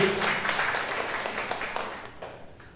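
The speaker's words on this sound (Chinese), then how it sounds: "那种掌声归荣耀给上帝" A church congregation at a Sunday combined worship service claps, a moderately distant burst of applause that starts full and gradually thins out.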